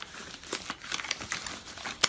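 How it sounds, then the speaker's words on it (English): Close crinkling and crackling of thin rubber gloves being stretched and pulled on, with a sharp snap near the end. "You put on your rubber gloves."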